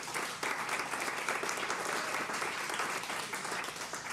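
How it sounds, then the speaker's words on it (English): Audience applause for a caterer at a launch event, a steady wash of many hands clapping at moderate volume throughout, with no voices over it. "Please give her a round of applause."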